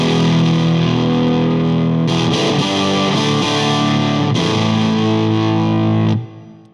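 An electric guitar played through a Windmiller preamp pedal with the volume turned up rings out in loud, thick distorted chords, changing a few times before cutting off and fading at the end.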